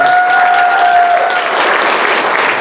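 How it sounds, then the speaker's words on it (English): Audience applause at the Miss VietFest 2018 pageant finale, a dense steady patter of clapping from a large crowd, with a sustained tone lingering underneath in the first half. "So please give them all a round of applause."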